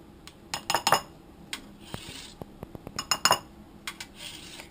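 A utensil stirs lemon rind into a mixture in a bowl, making a run of sharp clinks and scraping taps against the bowl, irregular and close, alone without talk.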